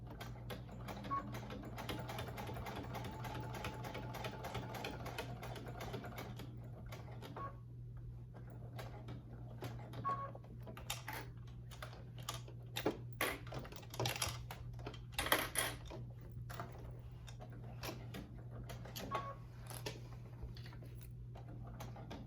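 A domestic sewing machine top stitches a wallet, giving a continuous rapid mechanical ticking over a low motor hum, with a few pauses and louder knocks as the fabric is shifted.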